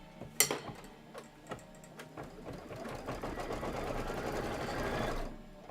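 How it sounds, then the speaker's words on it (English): A home embroidery sewing machine stitches out a Kimberbell floral design, its needle running in a steady rapid whir that builds and holds for several seconds before stopping, with a few sharp clicks at the start. "And now let's stitch it."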